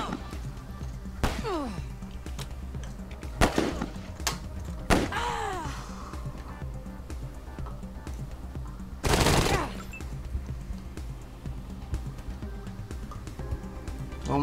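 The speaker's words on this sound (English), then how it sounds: "everyone's shooting us" Bursts of gunfire in the post-apocalyptic video game Wasteland 3, with several separate volleys and thuds spread over a steady game soundtrack, one long loud burst near the end.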